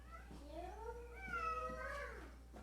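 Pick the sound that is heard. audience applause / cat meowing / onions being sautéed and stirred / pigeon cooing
cat meowing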